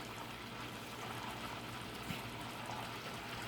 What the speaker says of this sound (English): So see, it's still bubbling there, folks.